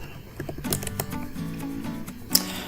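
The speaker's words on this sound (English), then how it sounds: "Type your username, type your password." Typing on a computer keyboard to enter a username and password, a quick run of light, close key clicks with a sharper tap near the end, heard alone without speech.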